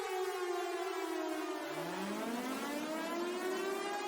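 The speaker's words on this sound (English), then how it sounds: "air raid sirens were heard across Tel Aviv, Haifa, and even parts of Jerusalem" A loud air raid siren in Israel wails continuously during Iranian missile strikes, its pitch sliding down and then rising again in a long sweeping tone, with no voices.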